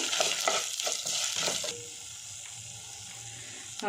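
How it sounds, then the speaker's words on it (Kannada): Cloves, dried red chillies and cardamom dry-roasting in a pan, stirred with a steady scraping sizzle that drops to a softer hiss partway through, close up with no talking. "ಲವಂಗ ನಾಲ್ಕು ಒಣಮೆಣ್ಸಿನ್ಕಾಯಿ ನಾಲ್ಕು ಏಲಕ್ಕಿ ಎರಡು ಇದನ್ನು ಸ್ವಲ್ಪ ಹುರ್ಕೋಬೇಕು"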